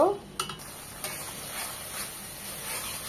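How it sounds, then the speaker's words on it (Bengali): Spice masala for barbecue chicken sizzles softly in a pan, opening with a couple of spatula clinks and scrapes and then settling into a faint, steady fry with no voice. "খুব ভালো করে মশলাটাকে কষিয়ে নেব।"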